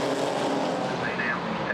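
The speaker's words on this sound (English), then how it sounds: "Now up through the gears, underneath the bridge," GT4 race cars accelerate up through the gears under the bridge at Brands Hatch, a dense engine roar that is steady through the clip and mixed with broadcast commentary.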